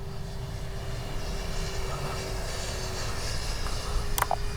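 Freewing 70mm F9F-5 Panther RC jet passing with gear and flaps lowered, a steady loud ducted-fan roar that swells slightly toward the end, with no one talking.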